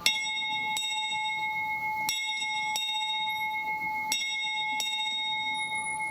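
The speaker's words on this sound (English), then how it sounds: "A bell that Walt Disney himself used to ring, part of the Rainbow Caverns mine train." Station bell from the Rainbow Caverns mine train at Disneyland, once rung by Walt Disney, struck six times at uneven intervals with bright, sustained metallic ringing over a steady background hum.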